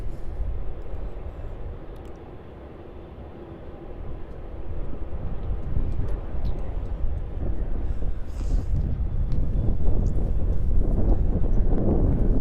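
An airplane comes in to land at Melbourne Airport, its rumbling roar building steadily from moderate to loud over several seconds amid wind noise on the microphone.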